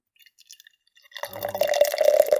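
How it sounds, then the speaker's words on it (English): Beer pours into a glass, starting with a few faint drips and then swelling into a steady, gurgling fill that grows louder toward the end. "Perfect pour."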